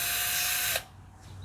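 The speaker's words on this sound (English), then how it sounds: "then you put the drill in reverse a little bit" A close electric drill whirs steadily as it winds wire, then stops abruptly, leaving a low hum and quiet room noise.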